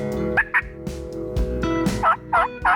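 A wild turkey during a New York spring hunt gobbles loudly and close in repeated rattling bursts, with short pauses between calls, no talk.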